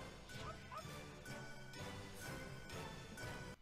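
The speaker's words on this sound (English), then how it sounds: "Puppy!" A puppy yipping and whimpering in short, high, repeated bursts, fairly faint and mixed with a few thuds, with no talk.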